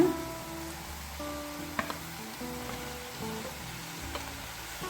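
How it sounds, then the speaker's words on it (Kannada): Fenugreek (methi) leaves frying in a pan for gojju, giving a steady soft sizzle with occasional light stirring clicks and scrapes, close and alone without talk. "ಮೆಂತ್ಯ ಸೊಪ್ಪು ಚೆನ್ನಾಗಿ ಫ್ರೈ ಆಗಿದೆ"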